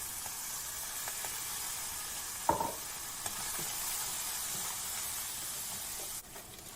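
Spam and corn fry in a pan with a steady, close sizzle and hiss, broken by a few stirring scrapes and one sharper clink partway through, with no talking.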